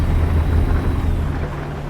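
Steady, dense rain hisses with a low rumble beneath it during a rainy cargo offload in American Truck Simulator, heard alone and fairly loud.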